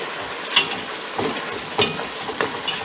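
Meat for Uzbek Navoi-style plov frying with onion over high heat in an open pot, giving a low steady sizzle broken by a few sharp clacks and scrapes of stirring.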